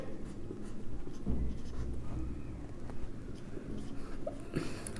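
A pen scratches steadily across paper while an accounting entry is written, a close, continuous rasping with small strokes and taps and no speech.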